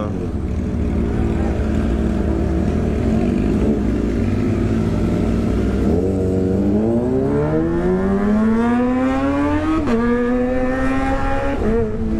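A Kawasaki ZX25 motorcycle passes on a city street, its high-pitched engine climbing in a rising, revving wail over a steady roar of nearby engine and road noise.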